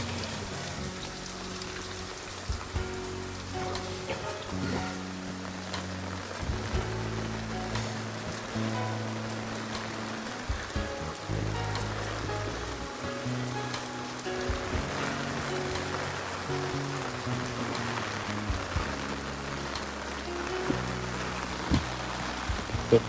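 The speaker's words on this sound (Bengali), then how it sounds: "আর মারাত্মক লেভেলের বৃষ্টি হচ্ছে।" Torrential rain falls near the Ganges bank, a loud unbroken hiss with close, uneven drumming of drops on an umbrella overhead, continuing without talk.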